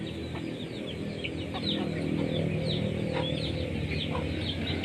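A hen clucks and her chicks peep busily close by as they feed on leftover rice, a steady scatter of short calls over a low farmyard background.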